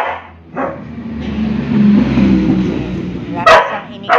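A dog named Rocket growls low and steady, then lets out a few short barks, loud and close, with brief yips near the end.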